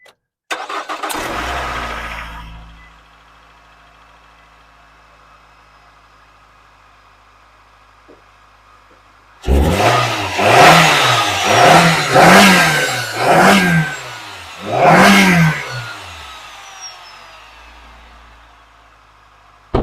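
A 2012 Nissan Rogue with a 2.5L engine cranks briefly, falls quiet, then starts and revs in several loud rising-and-falling bursts before settling, heard up close with no speech.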